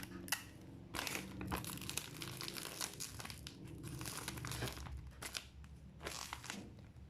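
A plastic packaging bag holding lotus flowers is folded over at the mouth and sealed with adhesive tape, giving continuous close crinkling and crackling with sharp crunchy bursts throughout.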